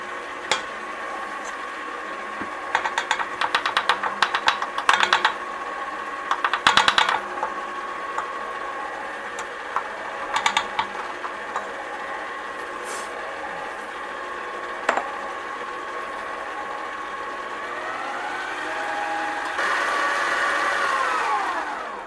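An electric hand mixer runs on low speed through fruitcake batter made with almond flour and Carbquik, giving a steady motor hum with bursts of clattering against the bowl, then a slightly louder stretch near the end.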